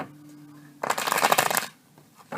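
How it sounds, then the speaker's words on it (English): A deck of tarot cards is shuffled in one dense riffling burst lasting under a second, following a soft low hum and then fading to quiet. "Make sure we get them nice and shuffled for you"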